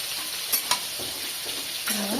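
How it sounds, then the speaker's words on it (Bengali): Fish frying in oil in a pan, a steady sizzle close by with a couple of sharp utensil clinks and stirring scrapes, then a louder burst of sizzle near the end. "এই দেখেন মাছটা কত সুন্দর ভাজা হচ্ছে, তেল আছে"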